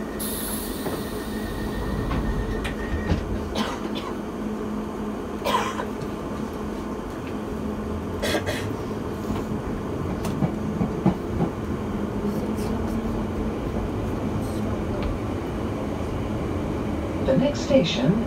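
Piccadilly Line Underground train running on the London Underground between South Ealing and Northfields, with a steady rumble of wheels and track, a few sharp squeals and clatters, and occasional automated announcements over the noise.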